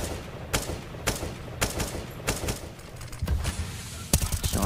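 Sharp gunshots ring out in a professional Counter-Strike match at a DreamHack Masters event, spaced single shots at first and then a quicker close burst near the end, all over a steady background hum.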